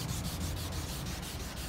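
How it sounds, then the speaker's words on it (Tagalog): Close, continuous sanding on the body panels of a 2002 Toyota Corolla being prepared for paint, a loud abrasive rasp with quick, even back-and-forth strokes and no talk. "tulungan natin magliha si Jet"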